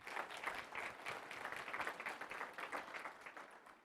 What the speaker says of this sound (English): Clap it up one more time for him.